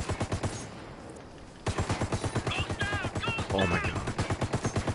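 Rapid automatic gunfire from the video game Ghost Recon Wildlands, a dense run of loud bursts that briefly drops out and then resumes, with a player speaking over it.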